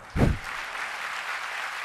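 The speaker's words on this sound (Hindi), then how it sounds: "ताली तो बजा दो" During a religious discourse, an audience gives one short burst of clapping that fades quickly into a soft, steady murmur of room noise.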